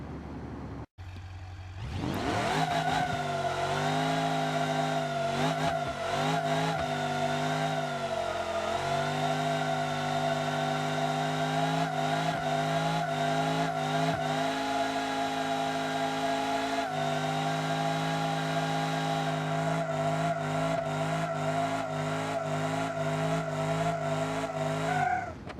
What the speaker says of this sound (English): let's go and try to do some burnouts for distance like this thing is really made for